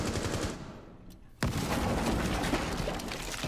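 Gunfire and explosions burst through a Rainbow Six Siege esports playoff match, loud rattling bursts with a sharp blast midway, followed by continuous dense firing.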